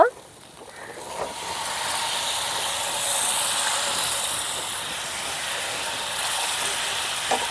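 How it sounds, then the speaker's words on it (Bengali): Egg masala sizzling in a pan as a little water is added, a loud broad steamy hiss that swells midway and stays constant, with a few light clinks at the start. "এখন সামান্য একটু জল দিয়ে দিব"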